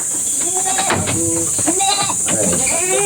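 Several goats on a farm bleat repeatedly at close range, their wavering calls overlapping one another over a constant high-pitched hiss, with a voice speaking briefly in between.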